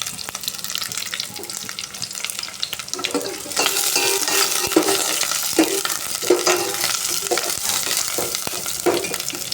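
Tamarind water and dissolved dal pour into a hot pan, giving a steady hissing sizzle with stirring that runs throughout and grows louder partway through.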